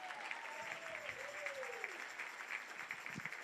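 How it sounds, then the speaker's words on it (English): Quiet applause from an audience at a tribute concert, heard faint and distant, with a brief whistle-like tone gliding over the clapping. "Give these guys a big round of applause."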